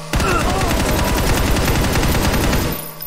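Sustained automatic gunfire in the VR game Hard Bullet, a dense, loud, close rattle of rapid shots running continuously for about three seconds before cutting off.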